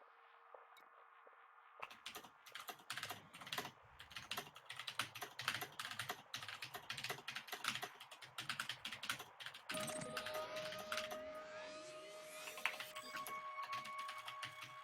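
Rapid typing on a computer keyboard, a dense run of close clicks and key taps continuing for about fifteen seconds, with a faint steady tone beneath the later part and no voices.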